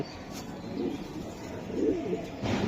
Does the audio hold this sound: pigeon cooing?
yes